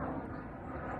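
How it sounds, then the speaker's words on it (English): Airplane passing overhead as a broad, steady low roar, continuous and moderately distant, heard outdoors while a 1983 Toyota Celica GTS gets a wheel and tire swap. "remember I told you about the airplanes every 3 minutes?"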